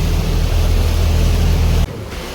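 Small and large boats moving on the water at Dubai Marina, heard as a steady wash of waves and wind noise with a low engine rumble that drops away near the end.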